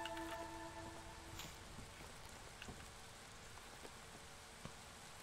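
Light drizzling rain falls steadily in the colony-building video game Against the Storm, a soft hiss spread across the whole stretch with faint scattered drops and no voices.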